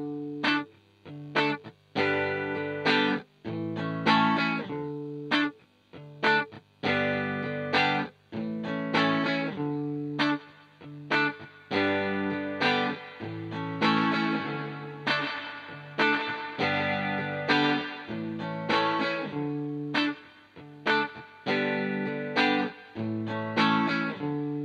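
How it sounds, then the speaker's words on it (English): A DV Mark DV Micro 50 CMT guitar amp head plays a guitar loop through its reverb, a spring-style emulation, with distorted, chorus-tinged chords in a steady rhythmic pattern, loud and alone, each strum trailing a short wash. "Let's do one last loop for the reverb."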